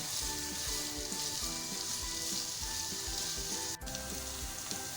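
Onions frying toward golden for aloo keema, a loud dense continuous sizzle close up with a faint steady hum underneath and one brief click.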